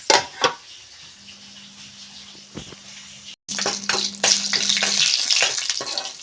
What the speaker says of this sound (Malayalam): സാമ്പാറിന് കടു വറത്തിട്ടിട്ടുണ്ട്